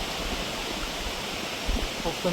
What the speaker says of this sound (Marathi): धबधबा राई वॉटरफॉल